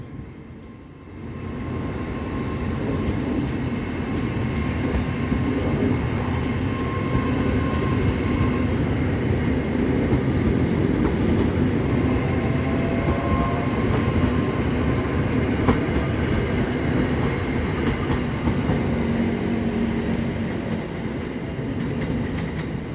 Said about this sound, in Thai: ตอนนี้ รถ ไฟ ฟ้าสายสีแดงก็กำลังออกนะครับ